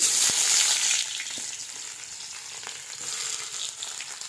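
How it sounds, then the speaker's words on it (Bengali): Chopped onion dropped into very hot oil in a wok over a wood-fired stove, a bright hissing sizzle that is loudest at first and settles into a steady crackle. "আমি তেলের ভিতরে দিয়ে দেবো পেঁয়াজ কুচি"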